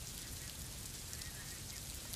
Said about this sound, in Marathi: सकाळपासूनच मुसळधार पावसानं हजेरी लावली आहे